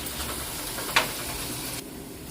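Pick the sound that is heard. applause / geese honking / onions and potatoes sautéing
onions and potatoes sautéing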